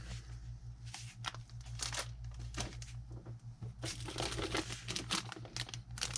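Crinkly plastic packaging rustles and crackles as a styrene body from a Tamiya Sand Scorcher RC kit is unwrapped, with close, busy bursts of crumpling over a low steady hum.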